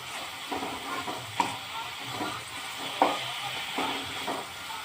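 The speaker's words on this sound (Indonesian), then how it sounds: "Dan juga kita masukkan bumbu dapurnya, serai, daun jeruk, daun salam dan lengkuas ya. Aduk-aduk." Spices, lemongrass, lime leaves, bay leaves and galangal stirred in a hot pan, giving soft sizzling with a scrape or clack every second or so.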